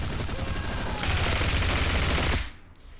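Sustained automatic gunfire from the Bullet Force shooting game, a dense rapid burst that grows louder midway and then cuts off abruptly, leaving quiet game ambience.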